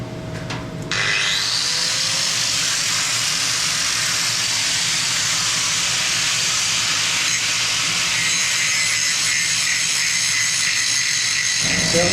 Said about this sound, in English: Nice time to have at it with the grinder and start cleaning it up a bit and getting the shapes right.